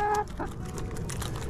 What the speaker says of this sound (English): She's actually a rescue chicken.